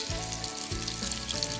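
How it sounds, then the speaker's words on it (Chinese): Beef fillet steak sizzling steadily in a pan over a low inner-ring flame, a continuous close frying hiss with soft low crackle and no talk. "这样子一点点内心的炉火呢，来煎这个牛排，能够保持 keep 住它的温度，慢慢的来煎"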